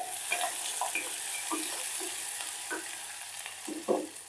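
Chopped onion with curry leaves and garlic fries in hot oil, a steady close sizzle with soft stirring scrapes and clinks scattered throughout, no voices.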